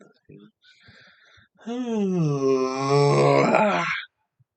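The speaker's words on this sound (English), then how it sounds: "It's like a nice yawn." A long drawn-out human yawn, rising and falling in pitch for a few seconds, comes after some quiet breathy sounds and a few soft knocks nearby.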